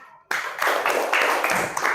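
Classroom applause from students after a pupil answers a teacher's question, a short burst of group clapping that starts abruptly and holds steady, fairly close and moderately loud, with no talk over it.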